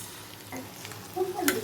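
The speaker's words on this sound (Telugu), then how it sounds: "ఉల్లిపాయలు మగ్గుతున్నప్పుడు మనం ఈ బీట్రూట్ ముక్కల్ని దీంట్లో వేసుకోవాలి." Beetroot pieces and softening onions frying in a pan as a home-style beetroot curry cooks, with a soft sizzle and a few scraping stirs growing a little louder toward the end, no talking.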